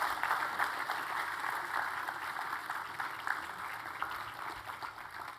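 Audience applause at a school assembly for an apprentice award, a steady wash of many hands clapping that carries on throughout, moderately loud and filling the hall.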